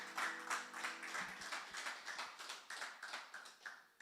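A church congregation claps in a steady, fairly even rhythm, quiet and somewhat distant, with a brief voice near the start.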